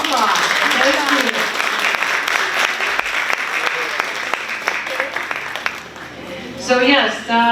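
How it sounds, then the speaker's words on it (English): An audience at an International Women's Day event in Pohnpei breaks into sustained applause, dense clapping that carries on loudly before tapering off near the end, with a voice briefly heard at the close. "Let's give her a big round of applause."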